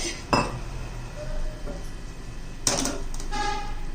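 A metal pot and utensils clank while boiled cauliflower is lifted out of water in a home kitchen, with a couple of sharp clinks and scrapes among lighter knocks over a low background hum.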